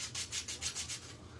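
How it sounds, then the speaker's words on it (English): Close, quiet strokes of sanding on a wooden Christmas sign, about six rhythmic back-and-forth rasps in quick succession, alone without any talking. "We'll sand some on each side."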